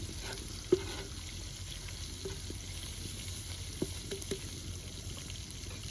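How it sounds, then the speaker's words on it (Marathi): Masala-coated pomfret pieces fry in a pan with a soft, steady sizzle and a few light clinks and taps. "हे बघा हलवा आता आपण फ्राय करायला घेऊया"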